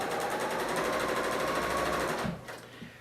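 A Bernina L890 sewing machine stitches in a smooth, fast, continuous run for over two seconds, then stops with a couple of soft mechanical clicks.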